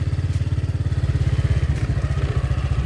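A Honda Biz motorcycle engine chugs close by in a steady, rapid low thumping rhythm, loud and continuous, with no voices over it as it shifts into first gear and pulls away.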